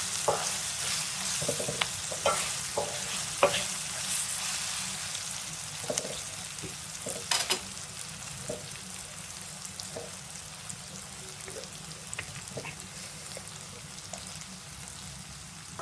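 Karonda berries soften as they fry in oil, making a continuous soft sizzle broken by irregular clicks and taps of stirring in the pan, fairly close, with no voices.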